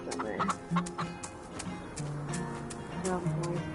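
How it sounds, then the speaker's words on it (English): Game chickens on a Farm Together farm cluck in repeated short bursts, close and fairly loud, while a person talks over them. "My chickens are doing okay over here."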